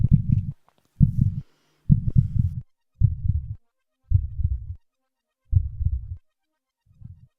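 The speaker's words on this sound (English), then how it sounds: "a heartbeat increasing in speed and volume as the player's health decreased" Pitched-up video game heartbeat sound effect built in FMOD, a deep close thumping in evenly spaced double-beat pulses, seven beats with silence between, the last one fainter.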